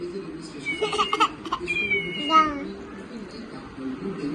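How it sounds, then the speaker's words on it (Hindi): Cat that has just been wetted with water, a couple of short, thin meows, close and fairly loud, mixed with children's chatter and giggling. "कासू क्या की, बिल्ली को गीला कर दी। अब बिल्ली देखो बजेगी कैसे।"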